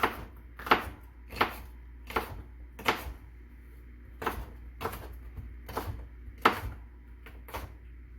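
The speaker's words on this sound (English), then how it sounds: "let's get to chopping up our vegetables" A knife chops vegetables steadily on a cutting board, about a dozen sharp, evenly spaced thuds, close and fairly quiet with no talking.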